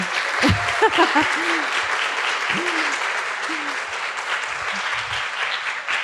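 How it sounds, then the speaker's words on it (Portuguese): A youth group audience at a Spiritist gathering applauds Bruno, with continuous clapping and a few voices calling out and cheering near the start. "Gente, uma salva de palmas pro Bruno, vai."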